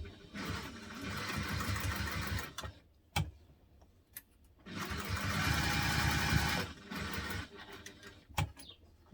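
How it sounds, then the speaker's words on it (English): Sewing machine stitching fabric backpack pieces together along the seam allowance, two long bursts of steady rapid whirring with a brief pause and some handling clicks between. "we are going to sew them together with the seam allowance in the pattern"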